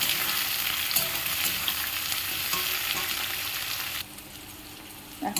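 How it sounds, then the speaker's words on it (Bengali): Onions sizzle loudly in hot oil in a pan for a mutton curry, a dense steady hiss with stirring, dropping quieter near the end, close and with no voices. "এবার আমি পেঁয়াজটাকে দিয়ে দেব ভালো করে পেঁয়াজটাকে আমি ভেজে নেব"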